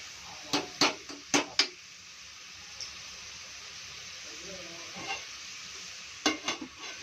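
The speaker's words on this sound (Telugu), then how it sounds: "ఇది కొంచెం ఫ్రై లాగా అయిన తర్వాత బాగా కలుపుకోవాలండి" Tripe and cucumber curry frying in a pan gives a steady hiss, broken by a few sharp scraping stirs near the start and again near the end.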